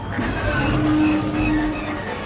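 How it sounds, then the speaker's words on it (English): A propeller plane's engine starts up with a rough, sputtering mechanical whine that holds loud and close for a couple of seconds. "as the plane starts its engine, we hear the exact same sound made when the Millennium Falcon's hyperdrive fails"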